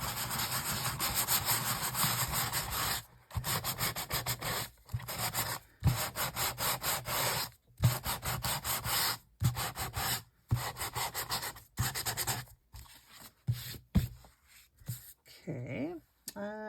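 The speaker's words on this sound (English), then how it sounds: "I'm going to sand this one down." Sanding down a sheet of dyed paper, loud close rasping strokes repeated in a steady back-and-forth rhythm with short silent gaps between bursts, continuing without speech.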